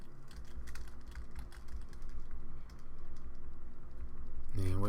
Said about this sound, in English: we're going to begin typing creative tutorials on YouTube